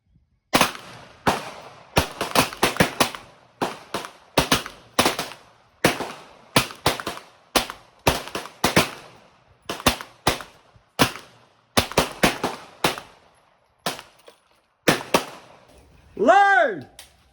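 Webley MKIV .38 revolver fired repeatedly at a range, sharp loud cracks in irregular bursts with short gaps, closing with a shouted command.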